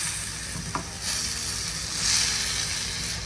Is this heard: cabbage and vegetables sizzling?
yes